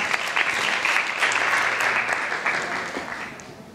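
Sustained audience applause rises in a playback theatre performance, a broad steady wash of many hands clapping that swells in the middle and tapers slightly toward the end.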